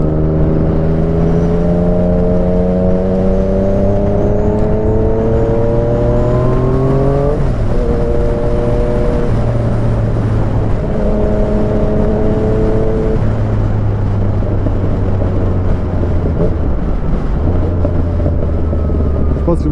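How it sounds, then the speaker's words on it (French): A Yamaha MT-09 motorcycle accelerates hard through the gears, its engine droning and rising in pitch, with gear changes and crackling pops from the exhaust, loud and steady with wind noise from onboard riding. "Je sais pas si vous entendez comment il pète l'échappement aussi là."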